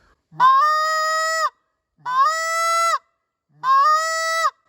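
Three drawn-out honks on a short reed Canada goose call, each starting with a short low cluck before a sustained nasal moan, evenly spaced and clear with no talking.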